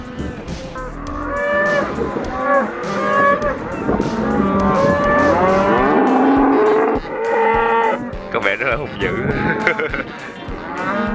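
Cattle on a Spanish farm moo loudly and repeatedly as they run toward a feeding vehicle, several overlapping calls close by with steady bellowing throughout and no talking.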